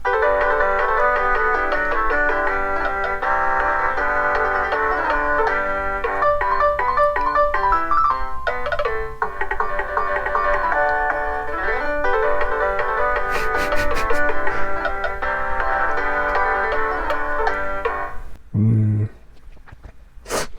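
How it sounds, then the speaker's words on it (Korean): A synthesized, chime-like school bell melody plays steadily for about eighteen seconds, bright and tuneful, ending with a brief low thump and a short pause. "그때 학교 벨소리를 작곡하는 게 수행평가였는데"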